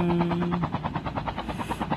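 A helicopter in the Call of Duty video game thumps with steady, fast rotor chops and a droning engine, loud and close throughout, with no one speaking.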